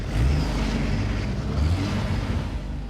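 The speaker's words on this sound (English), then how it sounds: "You could hear the engine just make the noise of when somebody has pushed the accelerator to the floor." A car engine revs hard with the accelerator floored, a loud, sustained low roar that surges and wavers over nearly three seconds with no voices.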